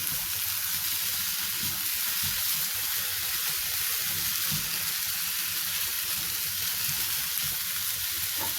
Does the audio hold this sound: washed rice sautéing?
yes